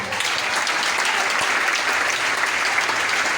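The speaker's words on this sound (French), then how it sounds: "Est-ce qu'on peut donner une bonne acclamation au Seigneur?" A church congregation applauding during a service, a continuous, even wash of many hands clapping with no voices standing out.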